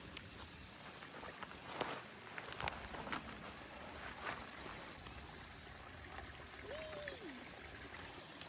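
Creek water trickling and flowing steadily in a wooded hollow on a rainy day, with soft patter and footsteps crossing nearby, a fairly quiet, continuous wash.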